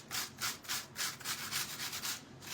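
Rhythmic back-and-forth scraping of sandpaper on wood, steady strokes about four per second, close and fairly quiet with no talking.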